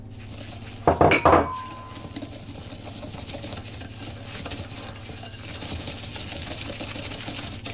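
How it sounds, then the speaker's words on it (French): Butter and sugar are beaten together in a bowl for a peach, pistachio and almond tart, giving a steady scraping and stirring against the bowl after a couple of sharp clinks near the start. "nous allons battre le beurre. On va rajouter le sucre."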